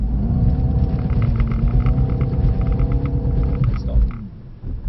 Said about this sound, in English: when I say power, just floor the throttle